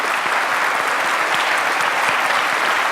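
A church congregation applauds, dense continuous clapping from many hands filling the room evenly throughout.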